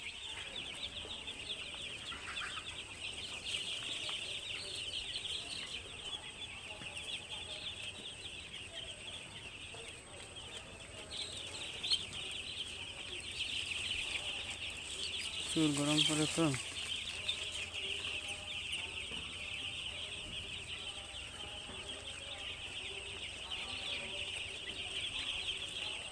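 Young three-day-old chicks and chickens at a poultry farm chirp and cluck steadily throughout, a dense high-pitched chatter, while a person talks over it.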